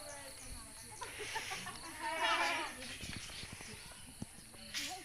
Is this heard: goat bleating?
yes